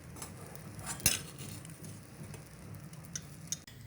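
A spoon stirs saffron milk into moong dal halwa in a pan, with quiet scraping and a few sharp clinks of metal on the pan, one louder knock near the start, all faint and without talk.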